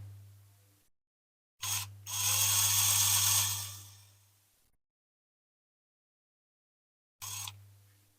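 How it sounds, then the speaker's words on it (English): A power drill whirs in two bursts drilling out rivet posts on a diecast Corgi Toys 319 Lotus Elan, a longer grinding run and then a brief second one, with a steady motor hum and quiet gaps between. "We'll get these posts drilled out now."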